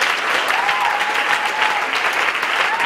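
A church conference audience applauding, dense continuous clapping from a large crowd, loud and sustained with a faint cheer.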